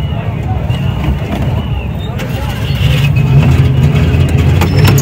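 A 2010 Suzuki Ravi pickup's engine idles and revs steadily at a Sunday car bazaar, a loud, continuous low rumble that grows slightly stronger in the second half, with voices and crowd noise around it.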